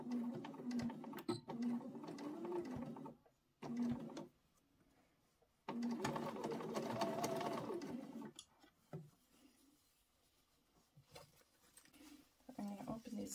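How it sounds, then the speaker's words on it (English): A sewing machine fitted with a zipper foot stitches a pencil case, running in several separate bursts of fast mechanical whirring, broken by short pauses and a longer quiet stretch, with faint handling noise between runs. "I've got my zipper foot on, and I'm going to go ahead and start sewing here."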